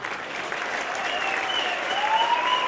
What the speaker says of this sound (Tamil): எங்கே உங்கள் கரகோஷி?